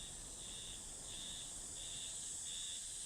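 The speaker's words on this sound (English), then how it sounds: "The summer cicada." Summer cicada calling in a pulsing, regularly repeating buzz, faint and distant, with no voices.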